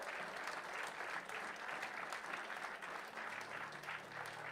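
Church congregation applauding together during a worship service, a steady, dense wash of clapping hands that holds for several seconds at an even level.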